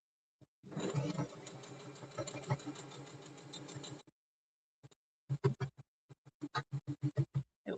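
A sewing machine stitches a children's book cushion, thumping through two hemmed layers of fabric plus one of cotton, first as a steady close-up run of rapid stitches, then after a pause as slower separate thumps.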